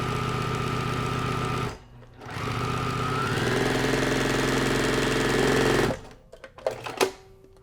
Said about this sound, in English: So now we'll just move right back to our sewing machine, and we're just going to stitch the same exact way